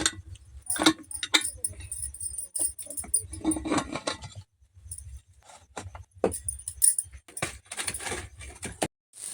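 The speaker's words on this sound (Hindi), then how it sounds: "अब इसका ढक्कन लगा देते हैं।" Metal lid clattering and clinking onto a pressure cooker of potato pulav in a home kitchen, several close jangling knocks and scrapes in short bursts with brief pauses between.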